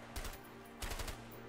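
Gunshots in the co-op video game A Way Out, two short bursts of quick cracks about half a second apart, fairly faint against a steady low hum, no voices.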